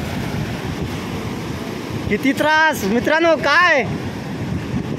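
Sea waves surging into village houses on the coast give a steady rushing wash of surf and wind noise, while someone speaks loudly over it in the middle.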